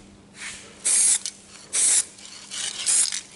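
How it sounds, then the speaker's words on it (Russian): Aerosol spray can fired through an adapter in several short hissing bursts, about four sharp sprays close up with brief pauses and faint rattling between them. "надо еще раз пропылить"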